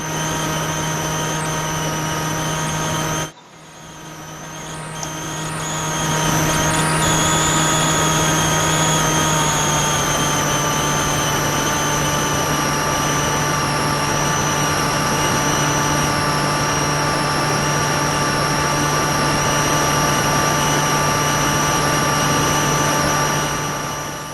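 A Versa Wing RC flying wing's electric motor whines steadily in flight at low ground speed, a sustained tonal drone with a brief cut early on, then rising and holding constant.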